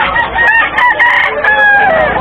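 A rooster crows loudly and close by on a farm, one strained, wavering call stretching across about two seconds with a slight cluck at the start.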